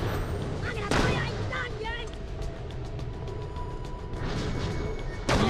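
An enemy gun turret in the shooter Borderlands: The Pre-Sequel, firing a quick run of sharp, evenly spaced shots framed by louder blasts, with game effects and occasional talk over it.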